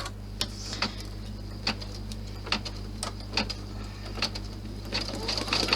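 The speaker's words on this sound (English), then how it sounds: "so I'm going to stitch out the bow" An embroidery sewing machine stitches out a ribbon bow, a steady hum under sharp, irregular clicking needle strikes repeating every half second or so, close and clear with no talking.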